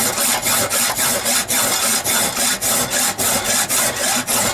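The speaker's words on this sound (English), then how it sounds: "You're dragging your file over this whole inch instead of just this little 3/8 to start with." A hand file rasps rhythmically over a knife blade, loud and close, with repeated back-and-forth strokes at a steady brisk pace.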